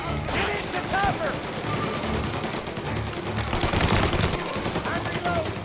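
In Mafia: Definitive Edition, a shootout keeps up dense, continuous gunfire with overlapping bursts and impacts, and voices shout faintly in the mix.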